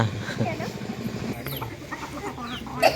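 Chickens and a rooster cluck close by on a farm, busy overlapping clucks under a person talking, with a sharper squawk near the end.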